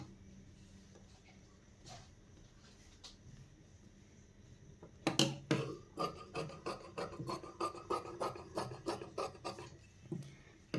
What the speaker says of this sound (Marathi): आता इथे आपल्याला तिरपी कट पट्टी कट करायची